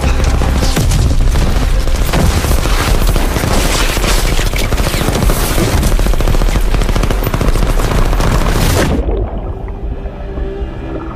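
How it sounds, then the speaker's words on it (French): Sustained machine-gun fire with heavy booms rattles loudly through a battle scene in a French action film, a dense continuous barrage that cuts off abruptly near the end and leaves a quiet tail. "dites mitrailleuse active."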